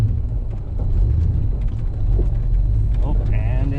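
An AMC Gambler rolling in first gear gives off a steady, close, low engine rumble with rough mechanical rattles and clunks throughout, and a brief whine near the end.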